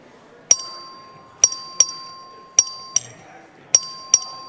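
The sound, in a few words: clerk ringing the bell for a record vote in the Texas legislature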